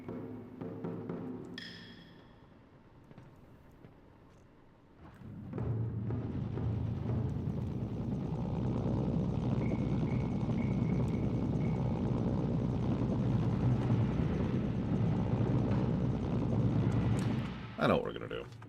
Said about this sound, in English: They stole my heli. No, there it is.